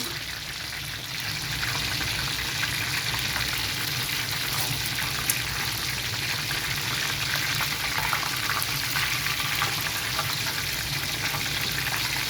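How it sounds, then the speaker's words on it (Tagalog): Homemade chicken deep-frying in hot oil, a steady dense sizzle and crackle that holds loud and constant the whole time, with no talking over it. "Sarap talaga pag deep fry chicken"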